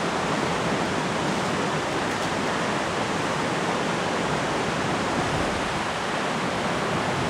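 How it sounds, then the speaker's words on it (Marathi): Rushing waterfall near a campsite in heavy rain, a loud, steady, unbroken roar of water filling the whole scene without pause. "तिथून बघा धबधबा दिसतोय"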